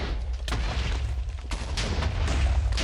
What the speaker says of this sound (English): It does loads of explosions and is very loud.